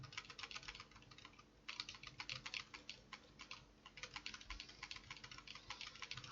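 Rapid, continuous computer keyboard typing while playing Tomb Raider, close and fairly loud, with a brief pause partway through before the clatter of keys resumes.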